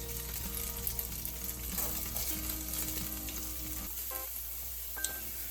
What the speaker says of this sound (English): So now we're going to fry this bacon up with the onions in there.